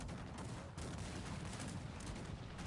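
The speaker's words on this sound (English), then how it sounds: "And now... my cannons should start shooting." Cannons firing in Cossacks 3 battle gameplay, a dense rumbling barrage of overlapping booms and gunfire filling the whole stretch, steady and heavy rather than separate shots.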